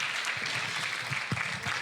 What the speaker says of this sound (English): One more round of applause for Mr. Heffentrager